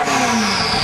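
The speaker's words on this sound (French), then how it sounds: "le moteur V8 émet un ronflement et un sifflement qui vous rassure sur la puissance de la bête" Ferrari F40 V8 engine revving under light throttle, a steady, close roar with a whistling edge that holds for just under a second.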